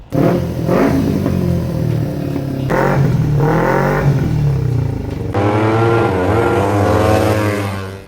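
A stock Kawasaki Ninja 250 motorbike engine revving hard through the gears, rising whine climbing in pitch with short breaks at each shift, loud and close throughout.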